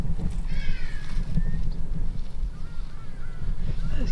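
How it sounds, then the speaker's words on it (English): Guineafowl call outdoors in the South African bush, harsh, rasping honk-like cries repeated several times at moderate distance over low rumbling background noise. "Those guinea fowl see us as game over."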